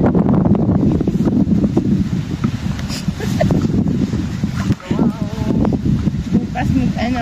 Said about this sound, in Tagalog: mahangin na pabalik.